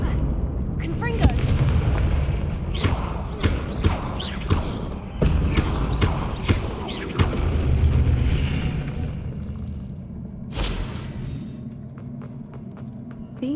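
Confringo fire spell blasts in Hogwarts Legacy, a series of sharp booming bursts fired in quick succession over a dense game soundscape, loud and close, with a lull and a final cluster near the end.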